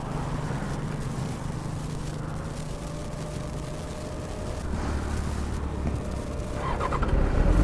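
A Benelli motorcycle engine idles nearby through its dual-pipe underneath exhaust, a steady low rumble that swells slightly as it is revved toward the end, with no talking over it.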